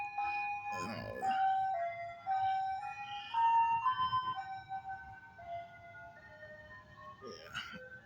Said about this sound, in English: yeah, new ice cream trucks.